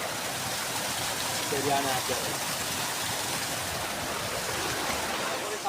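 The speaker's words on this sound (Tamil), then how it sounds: "வாட்டர் ஃபால்ஸ் பாருங்கள், தண்ணி எப்படி வருதுன்னு சொல்லிட்டு." Waterfall pours steadily in a continuous broadband rush on a trekking trail, loud and unbroken throughout, with a brief spoken word partway through.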